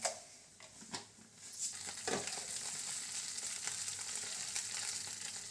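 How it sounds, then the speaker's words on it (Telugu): Green chillies and cumin fry in hot oil in a pan, giving a steady, close sizzle with occasional stirring scrapes throughout. "పచ్చిమిర్చి కొంచెం వేగనివ్వాలండి"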